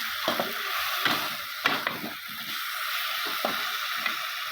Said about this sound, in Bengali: সিমটা দিয়ে ভালোভাবে আবার কষিয়ে নেব।